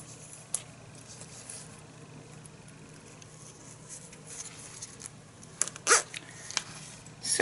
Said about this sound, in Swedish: Nu har jag då en hel dragkedja. Med 2 löpare på.